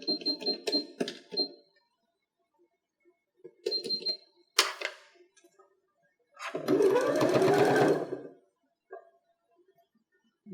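A sewing machine top stitches the long seam of a fabric mask in one short steady run, preceded by scattered clicks and handling noises nearby.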